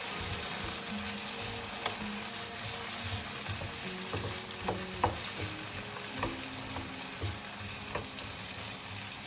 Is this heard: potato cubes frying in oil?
yes